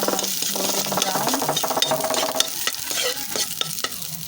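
Ginger and other ingredients sizzle in a little oil in a pan while being stirred with a utensil, giving a steady close frying hiss with light scraping and clinks throughout.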